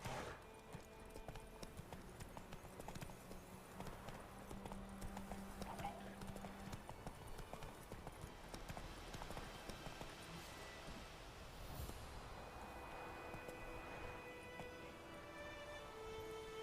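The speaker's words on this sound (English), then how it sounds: "Whoa there, Roach." Horse hooves clip-clop steadily at a trot in The Witcher 3 video game, a continuous rhythmic beat running throughout under game music and ambient sound, with a brief whinny and some spoken dialogue.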